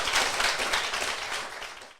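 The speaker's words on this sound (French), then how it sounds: "je pense qu'on peut l'applaudir très fort" A studio audience claps for a guest on a Paris Marathon 2024 show, a short burst of steady applause that fades out after two seconds.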